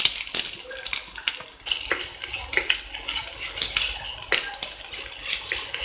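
Onion and capsicum are tossed in hot oil in a pan, producing repeated clinking and scraping hits of a utensil against metal over a faint sizzle, with occasional talk.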